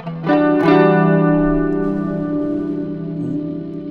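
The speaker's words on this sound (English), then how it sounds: "Added ability to use pre-delay in reverb block as a simple echo." An electric guitar through an Axe FX 3 with reverb pre-delay set as a simple echo, one strummed chord ringing out with a sustained, slowly decaying tone and a faint repeat trailing behind.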